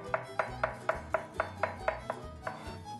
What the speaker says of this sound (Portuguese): O alho vou cortá-lo em lâminas muito fininhas